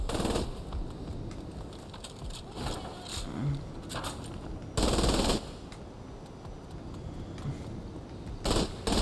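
Gunfire rattles through a Saints Row The Third Remastered fight in bursts of rapid automatic shots. Heavier loud volleys stand out near the middle and again at the end, with scattered lighter shots between them.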